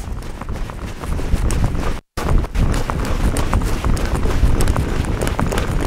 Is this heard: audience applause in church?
no